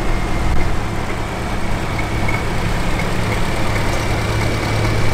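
The engine of a turbocharged International Harvester Super M tractor runs steadily at a parade, a loud, continuous low rumble with a constant engine drone throughout.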